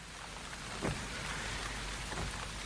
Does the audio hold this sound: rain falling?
yes